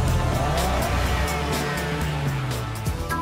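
Audi RS2, the high-performance wagon based on the Audi 80, driving with a steady engine drone and shifting tones, loud and close throughout with no pauses.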